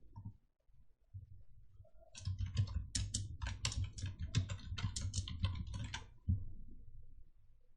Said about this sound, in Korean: 적용을 하신 다음에 타이핑을 해주실게요.